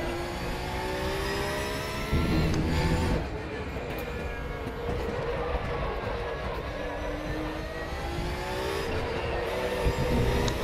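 A race car engine in RaceRoom Racing Experience, a Porsche 911 GT3 R or Cayman GT4 Clubsport, drones loudly through a lap with rising and falling revs and gear shifts, continuous throughout.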